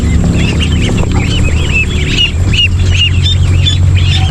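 A flock of ducks at a filled feeder in a backyard pen quack repeatedly in an overlapping, rhythmic chorus, close and loud over steady background noise, with no voices.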